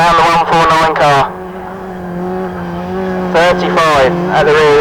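Autograss race cars rev and roar around a dirt track, engines surging loud in bursts at the start and end with a steadier drone between, while a commentator talks over the racing.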